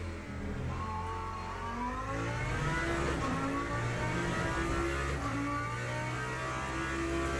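Race car accelerating at Spa-Francorchamps in Le Mans Ultimate, a steady loud engine note climbing in pitch through the gears from the cockpit, continuous with no break.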